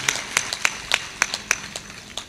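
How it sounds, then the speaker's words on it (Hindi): Hands clapping in a sparse, uneven rhythm, around a dozen crisp, fairly close claps from a few people without voices over them. "इसलिए ताली बजाओ"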